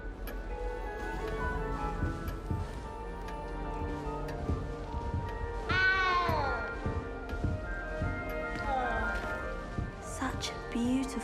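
Cat meowing in the video game Hogwarts Legacy, a couple of rising and falling meows heard over steady game music and ambient background.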